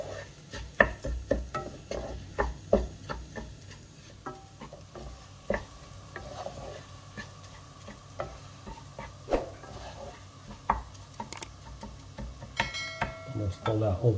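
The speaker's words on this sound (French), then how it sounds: "Donc on mélange jusqu'à ce que le riz devienne un petit peu nacré" Rice with onion being stirred in hot fat in a pan, a near, irregular scraping and clicking of a spoon against the pan over a faint steady sizzle.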